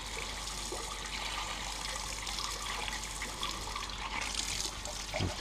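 Water runs steadily to rinse caustic stripper and xanthan gum off a surface, a continuous close hiss and splash with slight shifts in intensity and no talking.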